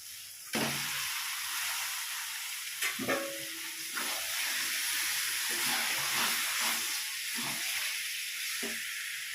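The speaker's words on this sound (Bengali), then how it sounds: "আমি এখন দিয়ে দেবো চিকেনটা" Chicken drops into hot, oily spice masala in a pan, setting off a sudden, steady sizzling hiss that continues close up, with a few soft stirring knocks and scrapes.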